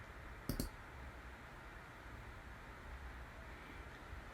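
A single sharp mouse click, close and fairly loud, sounding once near the start over a steady low hum of room noise, with no talking.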